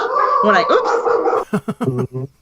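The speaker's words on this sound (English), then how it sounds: "There's the dogs. See, there they go." Dogs bark and yip at a distance while people talk on a live radio broadcast, the barking mixed under close speech in short bursts toward the end.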